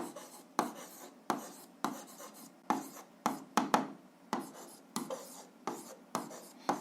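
Chalk or marker strokes on a board during an algebra lesson, a steady series of short scratchy scrapes in an irregular rhythm, close and moderately loud with no talk.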